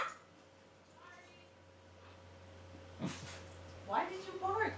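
A dog barks and yips indoors in a few short, fairly quiet bursts near the end, over a low steady hum.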